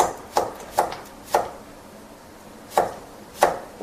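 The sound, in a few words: knife finely julienning cucumber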